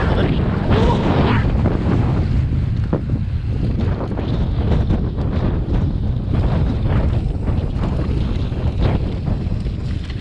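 Hurricane-force wind roars and buffets the microphone throughout during urban mountain biking, a dense, continuous rumble with gusty surges.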